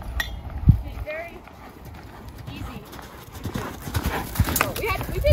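Hoofbeats of a horse loping in a rhythmic clip-clop, moderately close, with a rider talking over them and a brief whinny-like sound.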